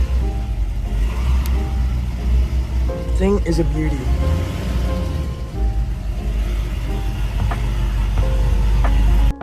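A 2005 Pontiac GTO with a Texas Speed cam idling, its engine a loud, deep, steady rumble close by while someone talks over it.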